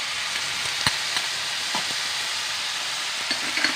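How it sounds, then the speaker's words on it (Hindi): Bitter gourd with onions, turmeric and red chilli powder sizzles steadily in a pan, broken by a few sharp scrapes and clicks from stirring, close and moderately loud with no talk. "अब इसको मैं चला दूँ, थोड़ी देर भुनाई करूँगी"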